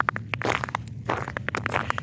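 Crunchy, scraping footsteps of metal-studded shoes on ice, irregular and close, with gritty metallic clicks as each step lands.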